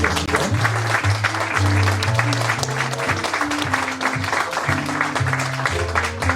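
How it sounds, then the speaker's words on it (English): A theater audience at a live radio theater show applauds steadily for several seconds, a dense wash of clapping with a music bed playing underneath and no talking. "one more round of applause for our Candy Ayla McIntosh"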